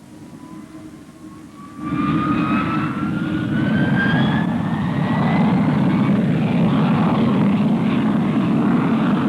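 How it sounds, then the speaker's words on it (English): English Electric Canberra jet bomber with Avon turbojet engines taking off, a loud roar swelling suddenly after a quieter start with a rising whine, then holding steady and close. "Takeoff is an impressive demonstration of the new Avon engines."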